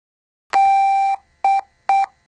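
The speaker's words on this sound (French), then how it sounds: "Un bip long et 3 bips courts signifient que les fils A et P sont intervertis ou court-circuités." A TC:Bus intercom with a BVS25 central unit giving a fault signal for swapped or short-circuited A and P wires: one long electronic beep followed by short beeps, clean and loud against silence.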